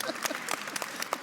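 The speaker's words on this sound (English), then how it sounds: "can we applaud this again?" A brief burst of audience clapping at a panel on Canada–South Africa film co-productions, a handful of distinct claps, fairly faint, lasting just over a second.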